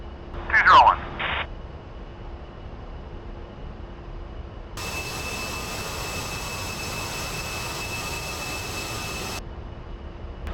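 Jet engine at full throttle on a takeoff roll in a flight video game, a steady loud broadband roar with a high whine that holds for several seconds after a brief earlier chirp, then cuts off.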